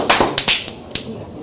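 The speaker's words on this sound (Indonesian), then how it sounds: "tepuk tangan dulu lah kita lakukan ya kan" A handful of sharp claps in quick, uneven succession, bright and close, fading out after about a second.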